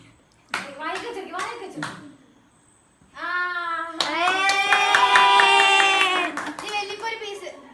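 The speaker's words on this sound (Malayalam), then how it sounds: "കൈയടിക്കേ" A few quick bursts of hand clapping, then children's voices shouting and singing loudly together nearby.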